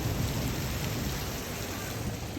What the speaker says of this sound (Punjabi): ਬਾਹਰ ਮੀਂਹ ਵੀ ਆ ਗਿਆ ਰੋਜ਼ ਆ ਜਾਂਦਾ ਮੀਂਹ ਰੋਜ਼